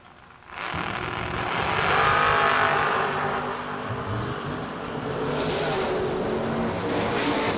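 Drag racing cars, a Cougar and a Roadster, launch off the line with a sudden loud roar that swells and holds, engines revving hard as they pull away.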